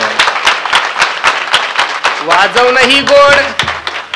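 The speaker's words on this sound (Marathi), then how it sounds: "त्यांच्यासाठी एकदा प्रेमाने सर्वांनी टाळ्या वाजवा" Audience clapping for pakhawaj player Chandu Maharaj at a devotional kirtan gathering, a steady run of sharp claps throughout, with a voice or sustained tone rising over it toward the end.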